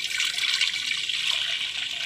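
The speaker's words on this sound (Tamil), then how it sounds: "4 பேர்த்துக்கு செய்கிறதுனால 4 டம்ளர் தண்ணி நான் ஊற்றுறேன்." Water pouring steadily into a tumbler, a continuous bright splashing stream with no pauses.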